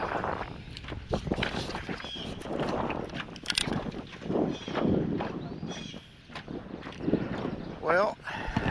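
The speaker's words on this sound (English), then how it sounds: "Oh my gosh, the wind." Gusting wind buffets the microphone aboard a small fishing boat on open water, with rumbling bursts and some knocking and shuffling underneath, while a person speaks over it.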